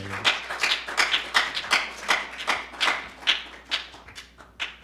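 A church congregation claps along in a steady rhythm, roughly two claps per second, loud and close, with sharp hand strikes repeating evenly through the whole stretch.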